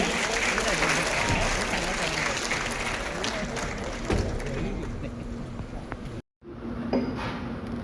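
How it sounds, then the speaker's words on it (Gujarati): Audience at a civic gathering with the chief minister present gives loud, sustained applause, dense clapping that fills the space for several seconds, then cuts out briefly before resuming more faintly. "જોરદાર તાળીઓથી વધાવીએ।"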